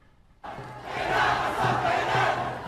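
Protest crowd in Manila facing riot police and water cannons, a mass of shouting voices that bursts in abruptly and swells into a loud, sustained roar.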